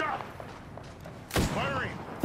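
Gunfire in the battle-royale shooter Apex Legends, a few sharp bursts cracking out near the end after a stretch of quieter in-game sounds, with a voice talking between the shots.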